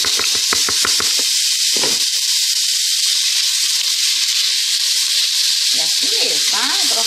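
Chopped onion is dropped into a hot pan to sauté for Bahian fish moqueca and sizzles with a loud, continuous, close hiss, broken by a few brief clatters and knocks.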